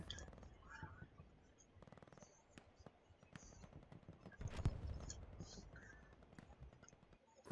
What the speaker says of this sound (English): I just keep hearing this machine guns go off and just start to mow people down constantly